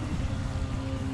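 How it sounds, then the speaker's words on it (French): A sailboat's engine drones low and steady at a harbour entrance near Reggio di Calabria, a brief, even, moderately loud hum. "on va démarrer le moteur juste à l'entrée du port"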